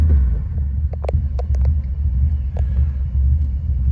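A 1940 Lincoln Zephyr Continental Cabriolet engine running, a loud low steady idle rumble close by, with a few faint clicks over it.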